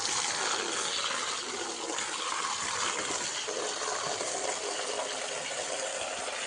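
Water gushes out in a steady, loud, unbroken broadband rush, close by in a farm field, with no pauses and no audible speech over it.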